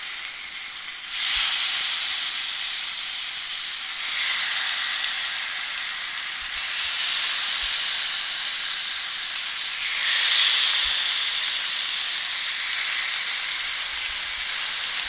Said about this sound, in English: take your chicken and mango satays and commence the searing and grilling process